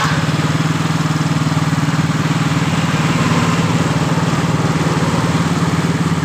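A Yamaha Mio GT motor scooter engine idles steadily at close range, a continuous buzzing putter with a fast even pulse and no talking.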